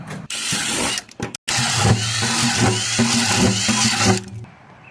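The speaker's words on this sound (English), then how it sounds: "Don't forget to drill your drain holes on the bottom." A power drill whirs steadily for several seconds after a brief start-stop, its motor pitch wavering slightly as it bites into the bottom of a 5-gallon bucket, drilling drain holes, loud and close.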